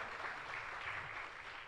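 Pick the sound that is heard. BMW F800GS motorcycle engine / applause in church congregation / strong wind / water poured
applause in church congregation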